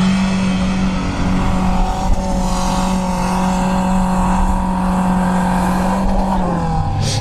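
Renault Duster stuck in a deep rut, its engine held at a loud, steady high rev with a constant droning hum, then dropping slightly near the end as it strains to pull out; no talking.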